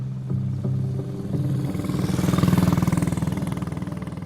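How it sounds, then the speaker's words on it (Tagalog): A motorcycle engine starts and settles into a steady, throbbing idle on a village road, close and moderately loud, its rumble swelling slightly midway and then holding even. "Pinaandar ulit ni Kiko ang motor"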